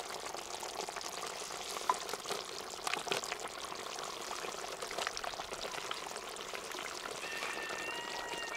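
Button and oyster mushrooms fry in a pan with a steady, moderately quiet sizzle and crackle, broken by scattered small pops and stirring clicks, with no voices.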